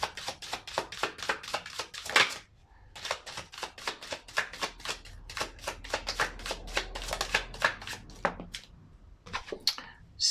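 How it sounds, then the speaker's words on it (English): Tarot cards riffled and shuffled repeatedly up close, a rapid rattling flutter in bursts with short pauses between. "the sound of the cards shuffling"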